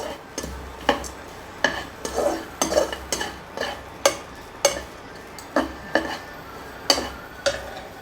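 A spoon scrapes and taps rhythmically against a pan while broken cashew nuts are stirred, the strokes close and distinct, about one or two per second, with a light sizzle underneath and no talking.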